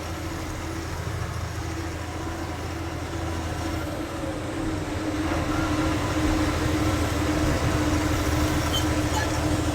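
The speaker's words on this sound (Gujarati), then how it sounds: "જો ટ્રેન હાલી જાય છે." A train rolling past on rail near a car waiting on the Kota bypass, a steady low rumble with an idling engine that grows slightly louder toward the end, continuous and fairly close with no talk.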